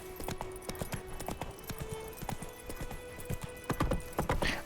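Hooves of Roach, the horse in The Witcher 3, clip-clop in a quick uneven rhythm, with a faint neigh near the end, all fairly quiet.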